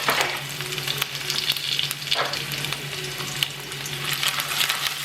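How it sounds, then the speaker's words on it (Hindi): Cumin, garlic and green chillies sizzle steadily in hot ghee, a bright crackling hiss that continues throughout with occasional stirring. "लहसुन जो कि राजा को काफ़ी अच्छी लगती है, थोड़ी सी हरी मिर्ची और फिर थोड़ा सा फ्राई कर लेते हैं"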